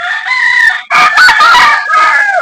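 A rooster crows loudly and close by at a small backyard chicken farm, one long call followed by another in quick succession, with no voices.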